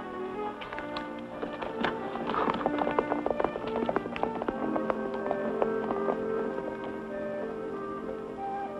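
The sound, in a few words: horse running and galloping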